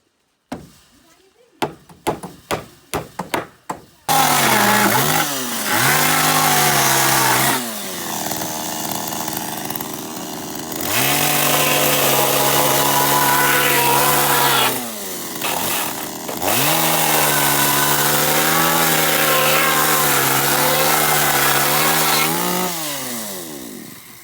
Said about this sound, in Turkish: Orayı da kes Nedim